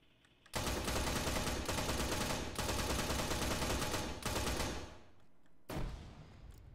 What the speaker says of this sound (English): I'm gonna throw a grenade and you open fire